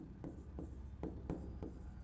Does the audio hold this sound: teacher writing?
yes